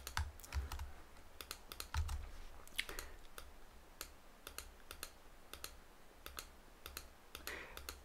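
Someone types on a computer keyboard, producing quick bursts of soft, close key clicks with short pauses between runs, quiet and steady with no talking.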